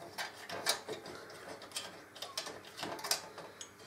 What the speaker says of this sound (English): So the bottom one's screwing in now, so start tightening it up.